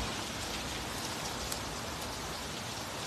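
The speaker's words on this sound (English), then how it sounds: "I'll see that rain." Steady rain falling outdoors as a storm approaches, a dense even wash of drops pattering on surfaces, close and continuous with no voices.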